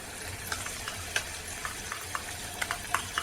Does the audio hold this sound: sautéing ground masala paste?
yes